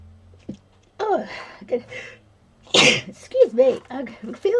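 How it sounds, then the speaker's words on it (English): A single loud human sneeze bursts out between stretches of talk during a relaxed card-making and paper-crafting session, sharp and close, with speech before and after it. "I feel that sneeze coming on and I couldn't stop it."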